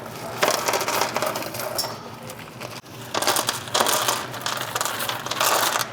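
Orange crushed glass being poured into an Evonic Linnea electric fireplace, giving a close, steady gritty crunching and rustling with short pauses and louder bursts, no talking.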